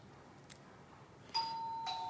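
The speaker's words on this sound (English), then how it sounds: "I've got somebody who's just rung the doorbell" An electronic doorbell chimes with a clear sustained tone that rings out over a faint background hiss, followed by a second softer chime.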